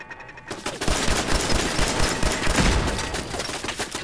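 Rapid, sustained gunfire in Fallout 4 during a raider fight at the Corvega Assembly Plant, loud and close, with overlapping shots in fast bursts filling the whole stretch.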